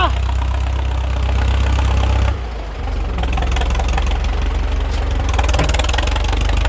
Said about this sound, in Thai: เสียงคำรามดีมากกระหึ่มเลยครับ เครื่องยนต์สี่สูบ